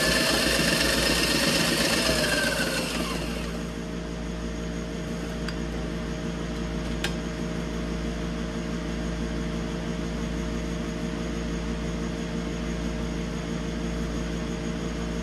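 A sewing machine makes a test run while stitching cargo shorts after trouble with broken needles. A loud, rapid buzzing chatter of stitching lasts a few seconds, then a steady motor hum continues up close with no voices.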